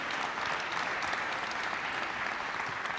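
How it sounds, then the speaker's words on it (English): An audience closing a talk on psychedelics and trauma gives a round of applause, a soft, even wash of many hands clapping from a distance, with no one speaking over it. "Let's give everyone a big hand, one last round of applause."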